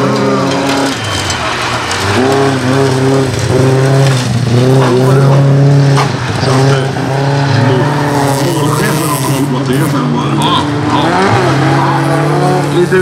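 Folkrace cars roar around a dirt track, engines revving loudly with rising and falling pitch and squealing tires, several cars close together over a commentator talking throughout.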